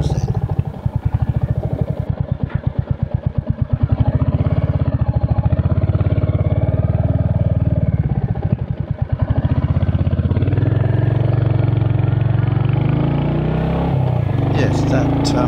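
Royal Enfield Hunter motorcycle engine pulling at higher road speed after a right turn onto a major road, a steady close rumble with wind noise, shifting pitch partway through, with a rider talking over it.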